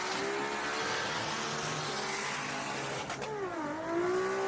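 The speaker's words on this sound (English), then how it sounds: "That Supra sounds insane. It sounds pissed off." Toyota Supra in a street race, a loud roaring engine that holds a strained note and then drops sharply in pitch as it shifts, recovering and climbing again, fairly close with no talking.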